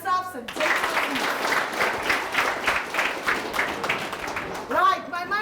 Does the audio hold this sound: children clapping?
yes